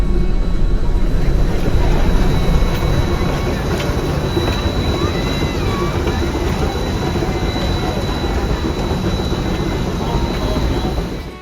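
An old heritage train on the Yosemite Mountain Sugar Pine Railroad rolls along the rails with a continuous rumble and rattle, wheels clacking and a thin metallic squeal running over the top.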